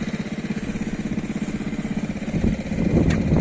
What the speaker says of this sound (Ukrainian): Отакий механізм чоловік придумав, наварив на трактор, щоб піднімати, коли розвертається, піднімати копалку.